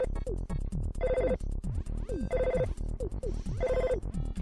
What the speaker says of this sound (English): Spin'em answers the phone.